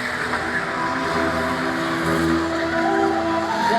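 An ordinary street car driven by a professional stunt driver in Baia Mare skids with loud, continuous tire squeal and revving engine, close and sustained.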